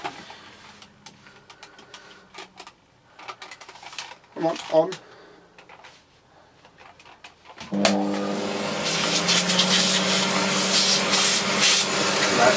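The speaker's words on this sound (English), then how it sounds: "Now if we get the vacuum cleaner back on that," Scraping and knocking handling sounds with brief talk, then a Dyson DC50 vacuum cleaner switches on partway through and roars steadily and loudly to the end.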